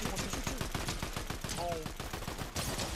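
Rapid automatic gunfire in Fortnite rattles in dense bursts throughout, with sharp repeated shots close and loud, and a brief voice heard over the shooting.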